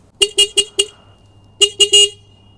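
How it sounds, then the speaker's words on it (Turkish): A Kuba Race 125 motorcycle horn honks four short times in quick succession, pauses, then sounds three more times, the last blast slightly longer; loud and close with no talking. "Korna güzel."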